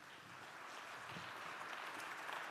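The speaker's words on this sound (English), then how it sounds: "let's give a big round of applause for Rick Ferri" An audience at a White Coat live event applauds speaker Rick Ferri, CFA, with steady, moderately distant clapping that holds evenly throughout.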